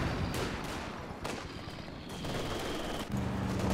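Machine gun fire in Company of Heroes 2 during a chaotic 4v4 battle, with steady rattling bursts and distant shots blending into a dense, moderately quiet wash of combat noise.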